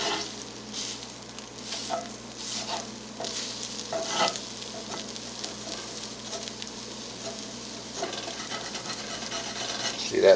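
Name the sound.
eggs frying in cast iron pan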